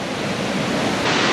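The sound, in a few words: water rushing down a gorge near Alva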